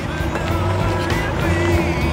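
A British-market Corvette ZR-1, unmoved for 18 years, rumbles steadily with tire noise as it rolls slowly away nearby, no voices heard.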